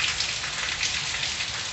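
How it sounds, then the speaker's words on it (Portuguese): Steady rain falling on surfaces in the Pernambuco backlands during a quick January shower, a dense, even hiss close by with no talking. "a chuva tá diminuindo, mas foi uma chuva rápida"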